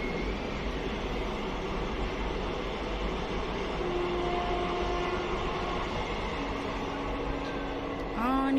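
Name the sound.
trains passing in both directions in the evening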